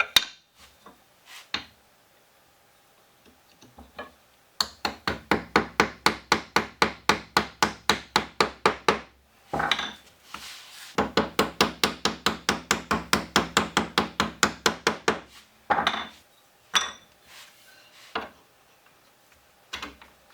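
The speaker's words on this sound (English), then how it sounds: "So I'll chisel out one side of the line, and we'll see where we're at after that." Rapid mallet blows on a chisel cut out wood for a bow tie joint in a mash paddle, coming in two long rhythmic bursts of dozens of sharp taps, with scattered single knocks and scraping between them.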